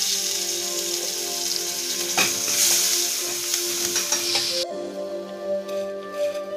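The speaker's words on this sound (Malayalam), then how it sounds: "ഇതിലേക്ക് അരിഞ്ഞു വെച്ചിട്ടുള്ള പച്ചമുളക് ചേർക്കാം. കറിവേപ്പിലയും ചേർക്കുന്നുണ്ട്." Green chillies and curry leaves sizzle in hot oil in a pan for a ginger-tamarind curry, a loud, steady hiss with stirring scrapes that drops off abruptly near the end.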